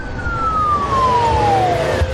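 A siren wails steadily with a slowly falling pitch, loud and close over a constant traffic-like rumble, with no voices.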